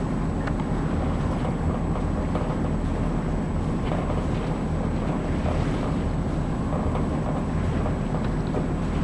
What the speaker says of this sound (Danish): Kommer der en motorbåd dernede fra.